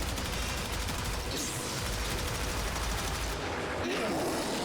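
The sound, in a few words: gunfire from shooting an enemy in the video game Warframe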